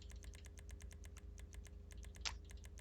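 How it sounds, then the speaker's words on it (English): A computer keyboard is tapped in quick, even keystrokes, a faint and steady patter of clicks over a low background hum, with one slightly louder stroke near the end. "Hear that keyboard tapping."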